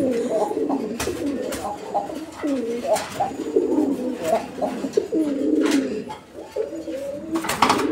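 Repeated low, throaty cooing from a pigeon, close by, in rolling bursts, with a few sharp knocks and rustles in between.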